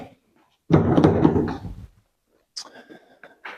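A Suzuki Swift's lock mechanism clunks shut with a short burst of noise, followed by a softer chirp and brief mechanical sounds.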